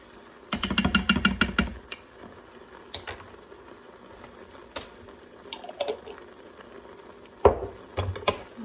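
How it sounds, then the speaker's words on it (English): Chopped onion and a tablespoon of garlic go into an Instant Pot set to sauté, giving a quiet run of clattering, tapping and stirring sounds with brief bursts of sizzle, close and soft, with no talking. "I'm going to go ahead and add my onions."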